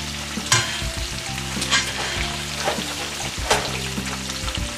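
Butter swirled and sizzling in a pan before French toast, a steady close frying hiss with soft periodic pops as it is stirred, no voices.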